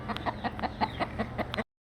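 Rooster and hens on a home farm clucking in a steady run of short, close, loud bursts, about a dozen in quick succession, with no talk over them.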